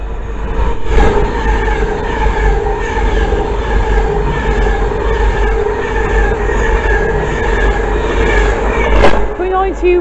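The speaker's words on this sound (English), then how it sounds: "The next train passed by is a slow moving Avanti" A slow-moving Avanti Class 390 train rolls past close by at Bushey station, a loud sustained rumble with ringing tonal hum and wheel clatter, a sharp squeal near the end.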